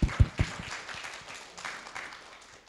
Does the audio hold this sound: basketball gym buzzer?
no